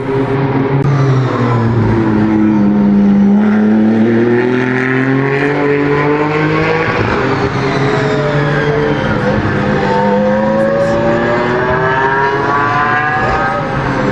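Ligier European Series race cars in practice at a Barcelona circuit scream past one after another, loud engine notes sweeping up and down in pitch and overlapping continuously.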